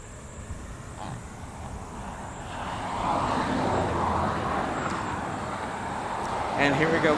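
An Alaska Airlines jet airliner in special livery at LAX rolls for departure, its engine roar building from a low rumble into a broad, steady, swelling wash that stays loud to the end.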